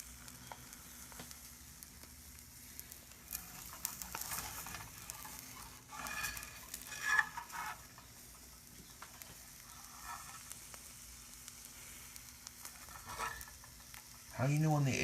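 Sunny side up eggs frying in a pan, a steady soft sizzle running throughout with occasional scraping and handling noises, ending in a louder knock near the close.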